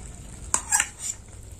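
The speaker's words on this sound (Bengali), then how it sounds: "ঝোলটা ফুটে গেছে, এবার দিয়ে দেবো ভেজে রাখা পটল।" Fried pointed gourd pieces drop into boiling mustard gravy with a sharp clink and a short splashing sizzle, then a brief utensil scrape, all close by over a quiet simmer.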